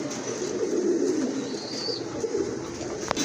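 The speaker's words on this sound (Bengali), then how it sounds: "অনেক বড় সাইজের একজোড়া শকিং কবুতর" A pair of large pigeons at a pigeon sale coo steadily in low, continuous murmurs, close by, over a constant background hum.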